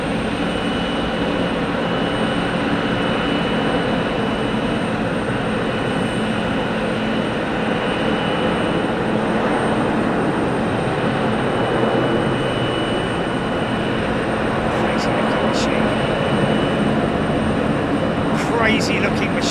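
A swing-tail jet freighter at Ted Stevens Anchorage International Airport, a loud continuous broadband jet roar filling the whole stretch, with a few faint clicks near the end.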